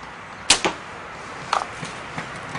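A 70-pound Maitland compound bow fires with a sharp snap, followed by a quick second thump and a few faint clicks and rattles fading out afterward.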